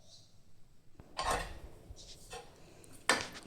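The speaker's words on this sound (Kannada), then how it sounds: "ಕೊತ್ತಂಬರಿ ಹಾಕಿ ಒಂದು ಸ್ವಲ್ಪ ಎಲ್ಲ ಮಿಕ್ಸ್ ಮಾಡ್ಕೊಳ್ಳೋಣ್ರಿ" Spoon scraping and clinking against a pan while hesaru kalu palya with coriander is stirred, a couple of distinct metallic clatters over quiet background.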